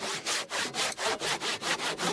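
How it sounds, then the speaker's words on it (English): A handsaw cuts through timber in quick, even strokes, roughly four per second, each a close raspy rub against the wood in a steady back-and-forth rhythm with no voices. "let's come back in here with a handsaw"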